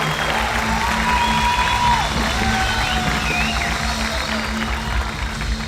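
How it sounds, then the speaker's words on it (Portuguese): A church congregation applauds for Jesus during a service, a loud, continuous wash of clapping and crowd noise with a voice calling out over it and a low steady hum beneath. "dá uma linda salva de palmas para Jesus"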